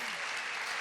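A brief burst of audience applause at the E3 2004 gaming expo, many hands clapping together in a dense, even wash.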